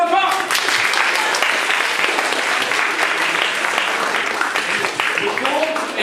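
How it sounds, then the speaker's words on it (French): A theatre audience at a comedy performance applauds loudly, dense sustained clapping across the whole stretch, with voices and singing from the stage mixed in over it. "On peut l'applaudir bien fort."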